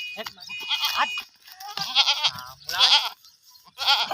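Goats being herded while grazing bleat loudly and repeatedly in wavering cries, close by, with short gaps between calls.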